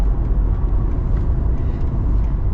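An original Acura NSX sports car drives along, its engine and road noise forming a steady, loud low rumble that stays even and close, with no talking over it.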